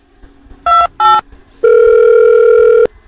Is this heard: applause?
no